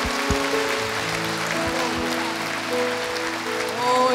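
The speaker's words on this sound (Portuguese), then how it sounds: "eu queria que vocês dessem a melhor salva de palmas para ele" A church congregation applauds during an evening worship service marking fifty years of ministry, steady clapping filling the room at moderate loudness while sustained organ or keyboard chords hold underneath.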